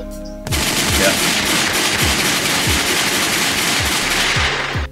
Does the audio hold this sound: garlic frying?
no